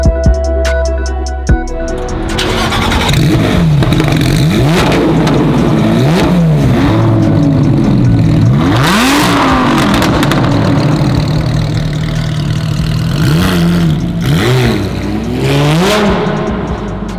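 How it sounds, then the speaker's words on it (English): Muscle car engines on a road: a loud idle that breaks into a series of quick, rising revs, repeated again and again and close by. "those small revs set off people's car alarms"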